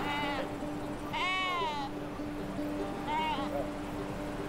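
Sheep on an alpine summer pasture bleat three times, wavering calls fairly close with short gaps between, over a steady low background.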